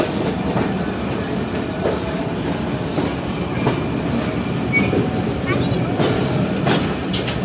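Passenger express train on the Karachi to Lahore run pulling out from a platform, steady rumble with clickety-clack of wheels and occasional squeals, heard from inside a carriage with faint voices in the background.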